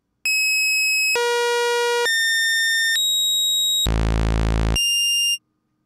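Omnisphere synth driven by a sample-and-hold LFO, jumping between five steady stepped pitches, from bright high tones down to a low buzzy one, loud and alone.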